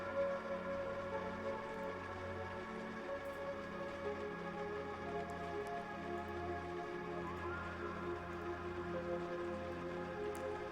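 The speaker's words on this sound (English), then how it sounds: "Rain streaks down the window, obscuring most of the view." Steady rain streaks down a window in the point-and-click adventure game Unavowed, a soft continuous patter that stays even and quiet throughout, with a low hum underneath.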